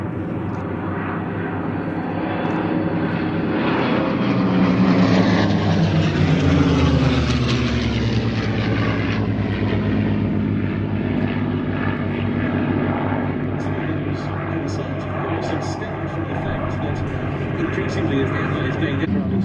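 A P-51 Mustang propeller fighter passes at an airshow, its engine growl swelling loud as it nears, then fading into a long, steady drone while a commentator speaks over it.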